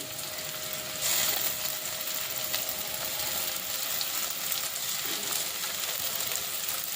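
A steady, dense sizzle of ground tomato, shallot and ginger paste frying in a hot pan for fish curry, with a louder burst of spattering near the start, no voices.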